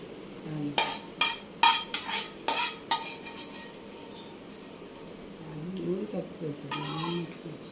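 Ingredients slowly roasting in a pan while being stirred, with several sharp clinks and scrapes of a spoon against the pan early on and a faint sizzle underneath, and a voice speaking briefly later.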